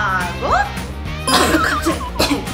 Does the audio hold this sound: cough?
yes